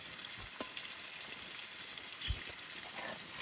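River prawns fry in hot oil in a village kitchen, a steady close sizzle and crackle throughout, broken by a couple of soft clunks from stirring, with no one speaking.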